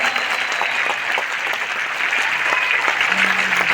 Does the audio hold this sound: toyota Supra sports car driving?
no